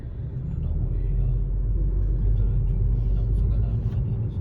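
A car reverses slowly to park, its engine a close, steady, heavy low rumble that fills the whole stretch without letting up.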